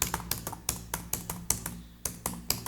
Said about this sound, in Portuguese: Vou digitar qualquer coisa aqui